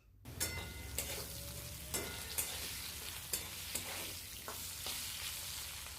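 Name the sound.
potatoes frying and being stirred in a pan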